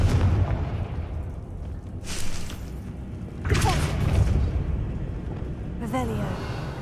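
The Confringo blasting curse goes off in a Hogwarts video game, bursting in several loud booms spaced a second or two apart, mixed with game sounds while a player speaks.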